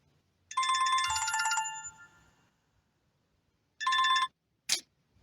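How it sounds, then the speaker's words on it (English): A phone ringtone for an incoming call plays loud and close: a bright electronic melody for about a second and a half, a pause, then a shorter repeat and a brief final chirp, with near silence between. "I'm getting a phone call."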